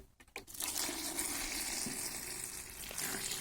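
Water poured onto chopped mushrooms soaked in a bubbling fermented starter, a steady close splashing and fizzing wash that runs unbroken for a few seconds after a brief start, with no talking.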